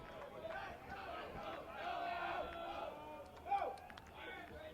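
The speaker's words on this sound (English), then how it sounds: "So there wasn't much of a crowd early on, but now they're picking up." Crowd noise at a Thursday night high school baseball game, a steady murmur of chatter and cheering voices from the stands that builds slightly, with one brief louder shout near the end.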